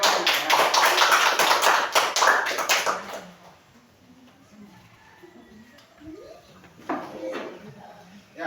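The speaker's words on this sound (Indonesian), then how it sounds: "tepuk tangan untuk teman-teman" A classroom of students applauds their classmates, a loud burst of clapping for about three seconds that fades into quiet room noise and a few scattered sounds.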